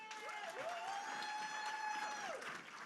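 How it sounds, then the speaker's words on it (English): Audience applause at Twinkle Khanna's book launch, a steady, dense clatter of many hands that holds for nearly three seconds, with a sustained tone and a few voices in the crowd. "Let's just clap for her again."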